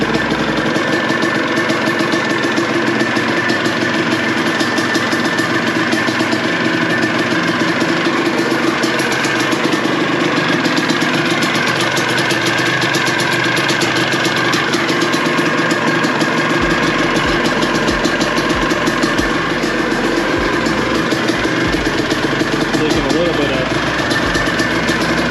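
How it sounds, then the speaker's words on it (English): A 2003 Suzuki RM250 two-stroke motorcycle engine, freshly fitted with a new head gasket and spark plug, idles steadily and loudly for the whole stretch with a constant buzzing drone. "head gasket is done, spark plug's done, she runs like a champ"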